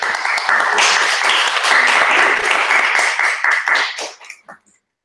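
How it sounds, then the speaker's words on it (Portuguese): Audience applause at a group gathering: a dense burst of many hands clapping, steady and fairly loud for about four seconds, then thinning out and fading to silence. "Vale até umas palmas."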